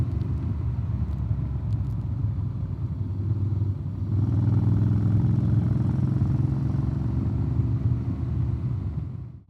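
A Honda X-ADV 750 motorcycle riding along a hilly road gives a steady, loud engine drone with constant low rumble that swells slightly partway through, with no talking.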